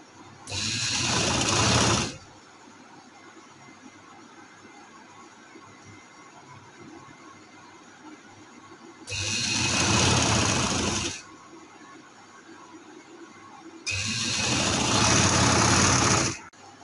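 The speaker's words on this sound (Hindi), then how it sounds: "देखिए इस तरह से मैंने दरमियान में सिलाई लगा ली है।" A sewing machine runs in three loud bursts of a couple of seconds each while stitching a seam on a ladies' trouser, with quiet pauses between the runs.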